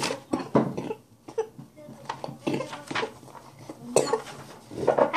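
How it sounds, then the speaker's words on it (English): Several sharp coughs burst out close by in uneven clusters, mixed with light clattering of dishes or utensils in the background. "I have a little cough"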